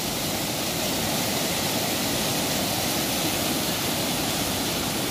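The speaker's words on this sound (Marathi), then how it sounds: "फेसाळणारा पाणी बघा किती सुंदर वाटतं." Swollen, frothing floodwater surges past rocks in a stream during extreme rain in Kankavli, Sindhudurg, making a dense, continuous roar, loud and near, unchanging from start to finish with nobody speaking.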